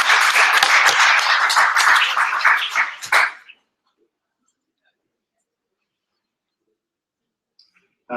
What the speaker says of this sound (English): Here's applause.